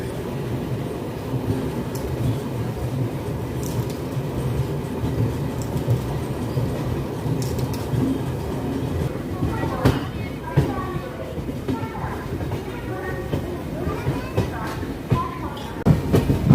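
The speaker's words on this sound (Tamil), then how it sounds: "நம்ம ட்ரெயினும் டிபார்ச்சர் ஆகி போயிட்டுருக்கு" The 22624 Mahal Express rolls along a main line with a steady low rumble and a rhythmic clickety-clack of wheels over the joints, heard from on board under ongoing talk.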